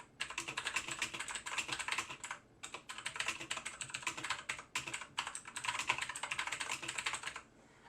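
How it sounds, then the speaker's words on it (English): Random text is typed on a computer keyboard in fast, dense runs of key clicks with two brief pauses, close and steady, with no voices. "and type in some random text"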